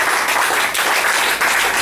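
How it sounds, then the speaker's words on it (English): A comedy-show crowd in Bangkok applauds the comedians with loud, dense clapping from many hands that swells and dips briefly before surging again, near and continuous over a short burst. "So let's clap again, but louder this time, okay?"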